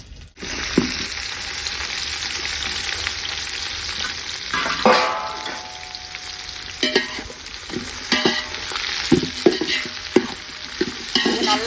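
Onions dropped into hot oil with whole cardamom, cinnamon and bay leaf for cumin samba biryani, bursting into a loud steady sizzle with intermittent stirring clatter, close up and with no talking.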